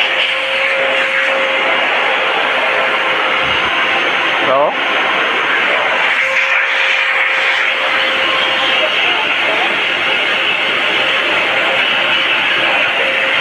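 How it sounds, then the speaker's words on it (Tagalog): An Ingco 1200-watt, 12-liter wet and dry vacuum cleaner runs in blower mode with a loud steady whooshing roar and a whining tone throughout, while a person speaks briefly near the start. "Ito yung blower niya"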